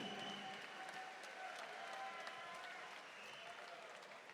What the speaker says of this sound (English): how about a round of applause, both of these fighters in tonight's co-main event of RFC 2